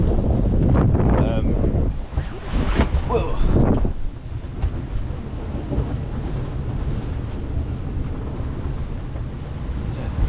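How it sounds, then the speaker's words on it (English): Strong wind buffets the microphone aboard a 1979 Westerly 33 sailing yacht at sea, a loud roaring gust first, then a steady rushing blow with water and hull noise beneath. "Probably averaged of about 20 knots of wind since we left, really, which is a bit more than forecast."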